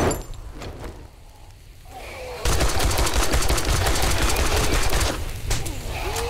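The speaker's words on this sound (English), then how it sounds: "we're probably just going to machine gun him" Sustained machine gun fire in the survival game 7 Days to Die, a dense rapid stream of shots that starts abruptly partway through and continues for several seconds at close range after quieter ambient noise.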